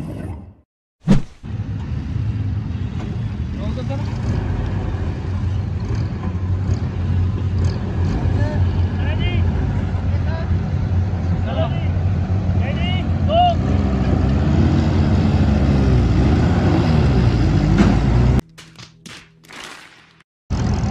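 An M151A2 jeep in four-wheel drive strains in a tug of war against two rickshaws in Pakistan, a loud continuous engine roar and drivetrain rumble, with voices talking over it before it cuts off near the end.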